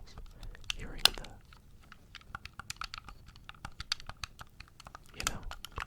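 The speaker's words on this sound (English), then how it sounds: "if you just hear someone clicking a controller or a button" Rapid light clicks of buttons on a video game controller, close and crisp, pattering irregularly for several seconds with a soft, breathy voice murmuring at the start and end.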